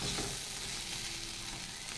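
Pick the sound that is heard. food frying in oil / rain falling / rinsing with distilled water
food frying in oil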